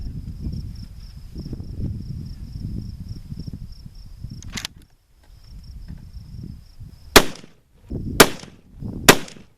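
Three sharp .308 rifle shots from a Weatherby Vanguard Compact Hunter firing Winchester 150 grain ammo, each a loud crack spaced about a second apart, following a steady chirping insect drone and low outdoor rumble.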